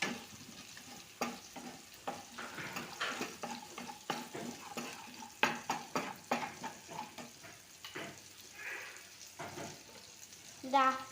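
Spoon scraping and stirring through chicken curry in a pan after chili powder goes in, a series of irregular close scrapes over a soft sizzle of frying.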